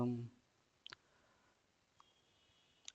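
A computer mouse clicks a few times, with sharp, faint, isolated taps spread across a quiet room after a brief bit of speech at the start.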